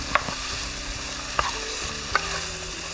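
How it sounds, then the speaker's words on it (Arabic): Falafel sizzles steadily in a hot pan while a utensil stirs it, with three sharp clinks against the pan spaced across the close, even frying hiss. "بس نضيف الفلافل ونحرك"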